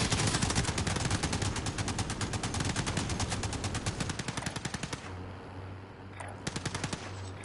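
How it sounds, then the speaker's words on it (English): Rapid automatic gunfire rattles continuously in a Call of Duty Armored Royale match, close and loud, with dense bursts that thin into spaced shots near the end. "they're shooting on top of the building"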